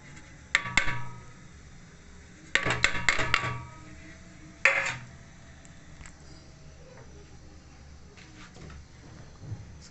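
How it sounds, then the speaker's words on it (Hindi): Spoon scraping and clinking against a kadai while gram flour is stirred into ghee for besan barfi, a few sharp metallic strikes in quick clusters separated by quieter stretches of soft scraping. "तो बेसन को हम यूँ मिक्स कर लिया हमने घी के अंदर।"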